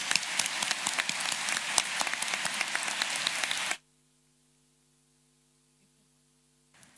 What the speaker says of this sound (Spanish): Don Daniel Álvarez, si se puede parar para recibir este aplauso a nombre de todos.